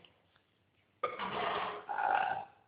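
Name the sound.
burp in a burping contest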